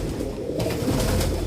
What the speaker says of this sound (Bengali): এগুলো হচ্ছে সব আমার বাড়ির ওড়ানোর পায়রা